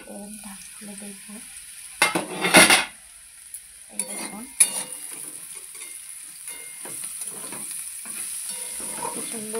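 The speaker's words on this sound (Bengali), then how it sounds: "কি সুন্দর ভাজা হয়ে গেছে সবজিগুলো।" Vegetables for pasta sizzle in a pan as a utensil stirs and clatters against the metal, with a loud burst of scraping early on, then softer frying and intermittent stirring while a person speaks briefly.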